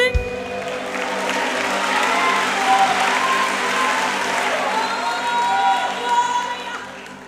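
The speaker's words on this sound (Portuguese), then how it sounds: "Você pode aplaudir ao nome do Senhor nessa tarde?" A church congregation applauds in a sustained wash of clapping with cheers and scattered shouts rising over it, loud and continuous for several seconds after a sharp opening.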